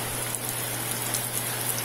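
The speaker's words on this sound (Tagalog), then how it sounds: "Maghapon, magdamag na naman umuulan." Steady rain pours down on a flooding river area during an all-day downpour, a constant faint hiss of drops with a low hum underneath, no voices.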